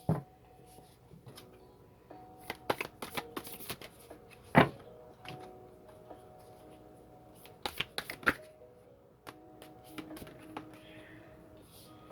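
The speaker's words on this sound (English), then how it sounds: "Also very hard to shuffle because these cards are shaped like hearts." Heart-shaped tarot cards are shuffled in short riffling bursts with soft taps and clacks, close and fairly quiet, with brief pauses between shuffles.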